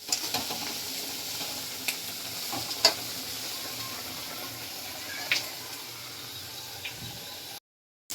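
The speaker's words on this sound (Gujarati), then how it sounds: "કાંદા અને ગાજર ને સાતળવા દઈશું" Onion and carrot sauté in a pan as the base of a vegetable gravy: a steady, close frying sizzle with a few sharp clicks of stirring, cutting to silence just before the end.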